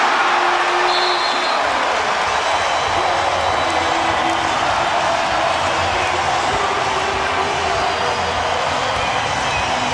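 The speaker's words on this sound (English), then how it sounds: "How about the crowd now?" Dense arena crowd noise at a Lakers versus Thunder basketball game, a steady loud roar of cheering and shouting that fills the whole stretch without letup.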